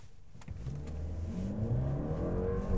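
A Mercedes plug-in hybrid car accelerates hard, with electric motor and engine working together. It is heard from inside the cabin as a steadily rising engine note that builds in pitch and volume over a few seconds.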